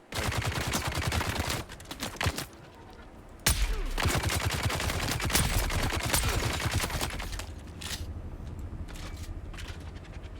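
Enemy gunfire in a Dune video game: several bursts of rapid, loud shots in clustered volleys with short pauses between them, fairly close, ending in quieter scattered fire.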